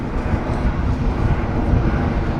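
Boeing Dreamliner airliner climbing away after takeoff near London City, a steady distant roar of jet engines with broadband rumble and wind buffeting, no talk over it.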